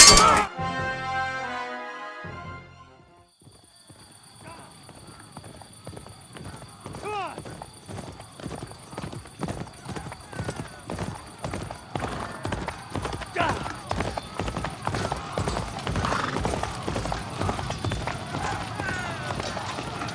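Horses gallop in the Kingdom Come: Deliverance 2 video game, a fast steady clip-clop of hooves with faint clinks of tack. Shouting voices and game sound are heard early, then the rhythmic hoofbeats carry on loud and close.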